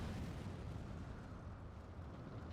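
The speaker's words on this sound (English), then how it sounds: "now he's just destroyed the cannon" A cannon is destroyed in an explosion in Final Fantasy XIV, a faint, broad low rumble that holds steady without a sharp attack, with no talking.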